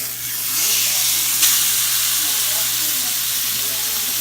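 T-bone steak searing in a smoking-hot skillet gives a steady, loud broadband sizzle and hiss with a brief sharp spike early on, continuous throughout.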